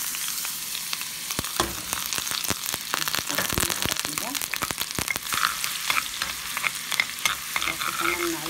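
Garlic frying in ghee in a pan, with a continuous close sizzle and crackle and irregular sharp pops and stirring scrapes throughout.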